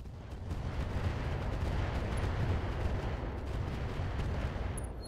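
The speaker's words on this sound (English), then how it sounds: "Let's fire the rockets as well." Rockets fired by a mech in the video game RogueTech, a dense, continuous rumbling barrage of blasts that stays loud and steady throughout, with no talk over it.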